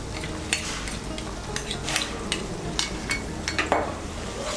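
Paste of melon seeds and cashews being stirred into a frying masala for a jackfruit curry, with repeated scrapes and clinks of a spoon against the pan over a low, steady sizzle, close up with no voices.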